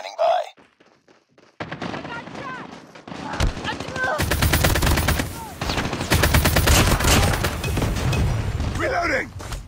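ASM10 rifle fire in Call of Duty, near and loud, pounding in rapid sustained bursts after a brief quiet start, while game voices call out over the shooting.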